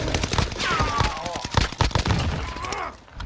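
Gunfire crackles in Call of Duty Vanguard Warzone: short bursts of automatic weapon shots and sharp cracks, mixed with game effects and players talking over it.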